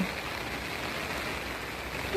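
Steady rain falling over a rural cassava farm in northeastern Thailand, a constant even wash of noise throughout with no distinct drops and no voices.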